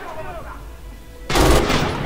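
An MG 42 machine gun in Red Orchestra 2 rips out a sudden, loud, rapid burst of fire after a quieter lead-in, the stream of rounds blurring into a harsh continuous roar.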